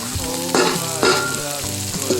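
Onion, green chilli, curry leaves and cabbage frying in hot oil, loud crackling sizzle with a few sharp bursts as ingredients hit the pan and are stirred, no speech.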